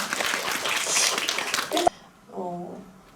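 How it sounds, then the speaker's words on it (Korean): An audience at a film screening and guest talk for The Glass Garden, part of a Shin Su-won director retrospective, claps briskly for about two seconds before it cuts off abruptly and a single voice speaks. "박수 부탁드릴게요"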